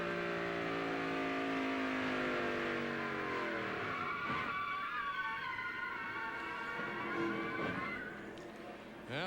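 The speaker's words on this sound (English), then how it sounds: "He got the left side tires in the rumble strips, Eli." A NASCAR Craftsman Truck Series race truck at Homestead in 1996 skids with loud, sustained tire squeal and roaring engine after running its left tires through the rumble strips, then crashes, the noise trailing off near the end.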